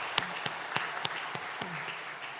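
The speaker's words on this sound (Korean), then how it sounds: "환영의 박수 한번 부탁드리겠습니다." A church congregation at an afternoon worship service gives a round of welcoming applause, heard as a handful of sharp, spaced claps over a soft, diffuse clapping wash in a reverberant hall.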